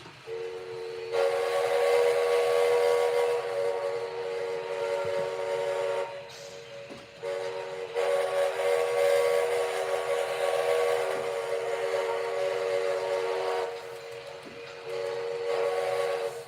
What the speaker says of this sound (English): Another Great Northern 5 chime.